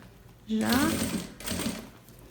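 Sewing machine stitching fabric for a blouse organizer: a close, quick run of mechanical whirring and stitching in two short bursts, with someone talking over it.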